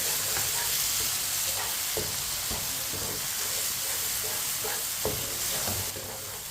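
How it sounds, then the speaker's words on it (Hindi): Finely chopped tomatoes frying with lightly browned onions in a pan for an egg curry, a steady close sizzle and hiss broken by repeated scraping stirs of a spoon against the pan. "2 बारीक कटे हुए टमाटर डालेंगे। मिक्स कर लेंगे।"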